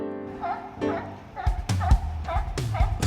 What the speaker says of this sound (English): Sea lion is barking.